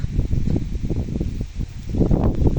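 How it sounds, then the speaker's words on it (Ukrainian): Gusty wind buffeting the microphone in a garden in uneven low rumbles, rising and falling over a few seconds, with no voices. "Погода геть вітряна."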